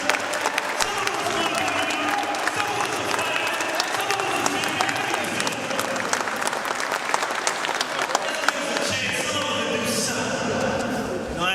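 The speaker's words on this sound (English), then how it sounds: "stand up and look that sister in the face and clap for her" Enthusiastic audience applause filling a room for over ten seconds, dense clapping with scattered cheers and a few voices mixed in, fading slightly toward the end.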